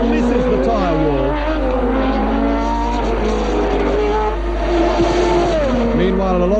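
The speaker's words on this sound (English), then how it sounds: "And Mansell trying for sixth place off the Candy Tolman of Oregon." Formula 1 race cars of the 1983 season racing past, engines droning and shifting pitch continuously over about six seconds, loud and steady, with commentary voice layered underneath.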